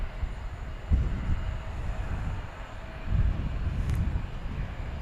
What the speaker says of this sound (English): So that's the infamous FedEx 757. Flight 1058 coming in from Alliance Airport in Fort Worth.